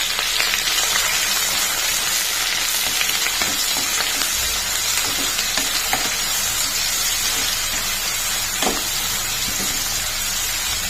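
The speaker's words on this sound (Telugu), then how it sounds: "ఇవి కొంచెం గోల్డెన్ బ్రౌన్ వచ్చే వరకు వేగనిద్దామండి" Onions, green chillies and curry leaves fry in hot oil, a steady dense sizzle and crackle that stays even and close with a few stirring clicks, no voices.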